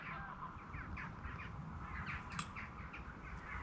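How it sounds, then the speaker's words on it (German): Birds chirp and call repeatedly in the open air, a mix of small songbirds and a few harsher caws over a steady low outdoor rumble. "Man hört nur die Vögel."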